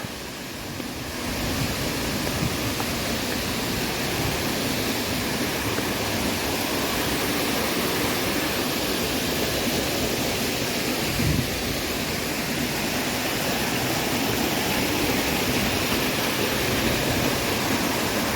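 An autumn mountain-valley waterfall roars in a loud, unbroken rush of falling water, steady from start to finish with no voices.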